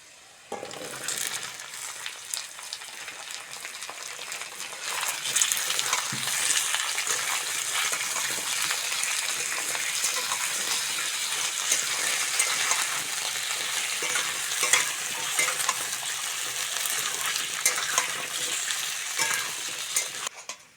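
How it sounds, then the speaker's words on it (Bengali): Chunks of taro, potato and onion fry in oil in a pan with a steady, close sizzle. Stirring scrapes and clinks come and go throughout, with no one speaking. "কচু আলু পেঁয়াজের সঙ্গে ভালো করে ভেজে নিয়েছি"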